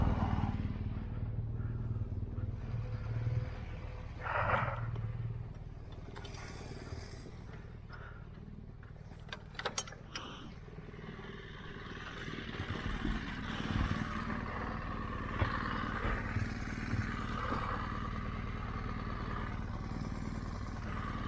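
A BMW R1200GSA motorcycle engine runs steadily throughout on a greenlane, idling and ticking over with some clatter as it is shifted into neutral, heard close up from a helmet-mounted camera with wind and road noise.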